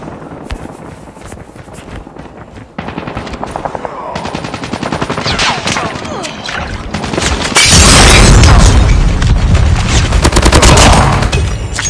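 Rapid automatic gunfire from Call of Duty gameplay, loud and dense bursts that build into heavy booming fusillades in the second half, with layered shots and explosions and no talking.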